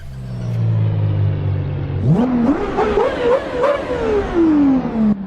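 Played-back recording of a Porsche Carrera GT engine, a steady idle drone that suddenly climbs into sharp revving with rising and falling pitch through quick gear changes, loud and close.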